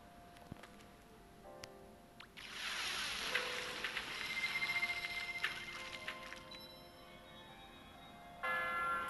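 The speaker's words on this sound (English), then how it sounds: "We gotta ring that bell, huh?" A bell is rung in the video game Sky: Children of the Light, a bright ringing swell that rises and lingers for several seconds over soft ambient game sounds.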